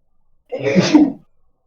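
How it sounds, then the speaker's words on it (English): One sharp human sneeze, close and fairly loud, lasting under a second in otherwise silent surroundings. "I'm just sneezing"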